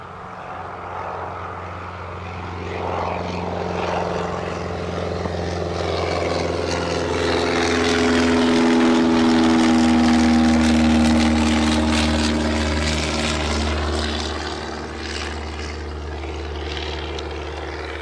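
An EasyJet airliner on the runway at Newcastle Airport produces a heavy engine roar that swells to a peak partway through and then eases off, heard from outdoors at some distance with a constant low rumble.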